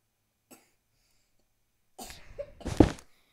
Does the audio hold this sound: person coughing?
yes